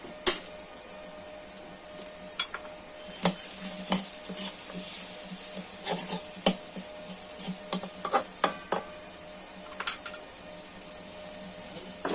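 Potatoes and onions fry together in a pan for cabbage ghonto, with a steady sizzle beneath repeated sharp scrapes and clinks of a spatula stirring against the metal, close and fairly loud.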